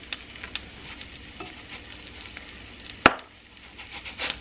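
Ham and cheese quesadilla sizzling in a pan on the stove: a soft, steady crackling fry with faint pops, one sharp scrape or tap about three seconds in, no voices.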